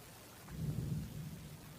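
A low, distant rumble of thunder swells and fades over a couple of seconds against faint background noise, heard from a condo before rain.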